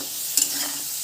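Chilies and onions sautéing in a pan, a loud bright sizzle with a quick spatula scrape as they are stirred.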